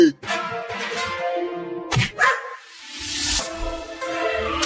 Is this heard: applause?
no